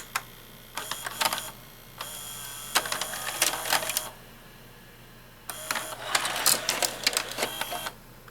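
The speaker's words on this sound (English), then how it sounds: "completely separate motor for ejecting the actual tape" Eject motor of a restored 1998 Zenith Allegro VCR whirs and clicks as it pushes out a tape, several short mechanical bursts separated by quieter pauses, close and fairly soft.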